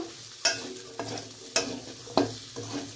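Chopped onions frying in a pan with garlic and chilli, a steady sizzle broken by four or five sharp scrapes and clatters of a spoon stirring against the pan.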